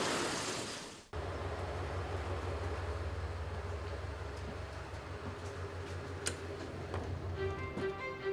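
Interior of a moving train leaving a rainy station: a brief loud burst of rain noise cuts off into a steady low rumble with soft rhythmic ticking and occasional clicks from the carriage.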